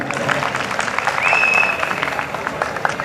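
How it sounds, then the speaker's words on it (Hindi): Crowd applause at a Hindi poetry and comedy stage performance, steady mixed clapping throughout with a brief whistle-like tone midway and some voices underneath. "एक बार बजाइए तालियां"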